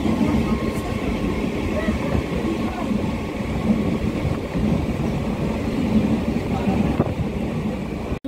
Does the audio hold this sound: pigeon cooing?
no